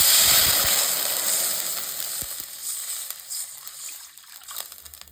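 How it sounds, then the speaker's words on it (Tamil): Water is poured into a hot kadai used to fry okra and sizzles loudly at first, then settles into a softer hiss as it calms. "இதில் கொஞ்சம் அந்த வெண்டைக்காய் வதக்கின அந்த கடாயிலேயே கொஞ்சம் தண்ணி சேர்த்துக்கலாம்."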